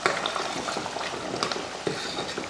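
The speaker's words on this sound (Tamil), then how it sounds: "ஒரு 5 நிமிஷத்துக்கிட்ட மட்டும் நம்ம கொதிக்க வச்சுக்கிட்டா போதும்" Mutton curry (mutton kulambu) simmering in a pot at a home stove, giving a steady close bubbling and sizzling hiss with small occasional clinks, no talking.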